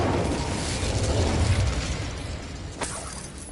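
A roaring fire-spell blast from the Hogwarts Legacy video game: a loud, dense whoosh of flame that holds steady and then fades, with a brief crackle near the end.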